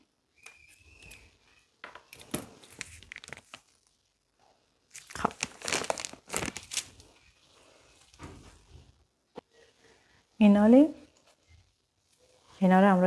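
Scissors snip open a chocolate packet, then the wrapper crinkles and tears in short, close bursts while it is handled during home baking of stuffed school pastries, with someone speaking briefly near the end.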